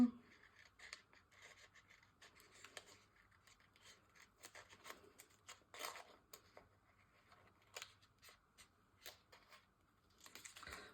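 Scissors snip through paper while cutting out a small paper figure of a lady, quiet irregular crisp cuts and rustles spread over several seconds, close up with no talk.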